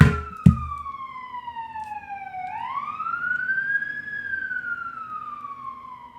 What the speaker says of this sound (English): Apologies for the sirens.